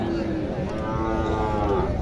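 A cow at a cattle market in Naogaon gives one long, low moo close by, droning steadily throughout with a faint hum of background noise.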